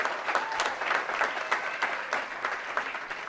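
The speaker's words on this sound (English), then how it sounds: "Let's give them another round of applause for our Conway students." An audience at a school district address gives a round of applause for students, steady close clapping that continues throughout at an even level.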